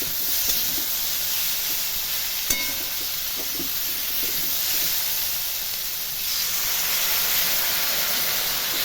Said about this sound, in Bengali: এবার দিয়ে দেব সামান্য জল